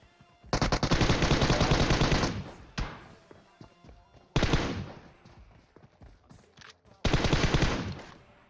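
Automatic gunfire from PUBG Mobile comes in three loud sustained bursts, separated by quieter stretches of single thuds and clatter, with no talking.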